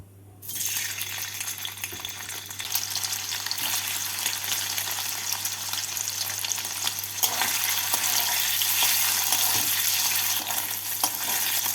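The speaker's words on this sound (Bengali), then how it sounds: "তেলটাকে ভালো করে গরম করে নিয়ে পনিরগুলোকে এই তেলের মধ্যে দিয়ে এপিটোপিট করে হালকা করে ভেজে তুলে নেব" Paneer pieces fry in hot white oil with a dense, continuous sizzle that starts after a brief quiet moment and holds steady throughout, with faint stirring touches and a low background hum.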